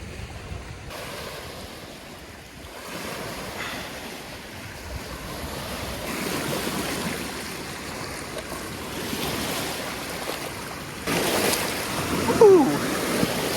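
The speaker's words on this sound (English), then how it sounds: "I'm now here in Oswego, New York, and this is Lake Ontario." Waves wash against the shore of Lake Ontario at Oswego, New York, a steady soft surf with gusts of wind buffeting the microphone, rising a little toward the end.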